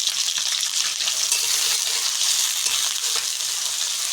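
Hilsa fish heads fry in oil, crackling and sizzling steadily at close range with faint stirring and no voices.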